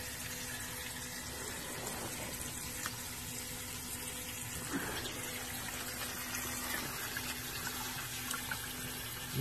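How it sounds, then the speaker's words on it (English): Water from a hose pours straight into gravel in a crawl space, a steady low rushing and splattering that runs on for several seconds at moderate distance with a faint hum beneath. "Pouring it right directly into the gravel."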